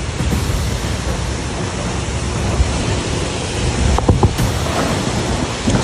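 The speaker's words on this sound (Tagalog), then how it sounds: "Sobrang lakas po ng hangin." Strong wind roars steadily in a loud, broadband rush, with gusts and a few rattling knocks near the end.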